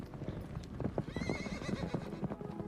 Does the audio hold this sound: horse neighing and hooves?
yes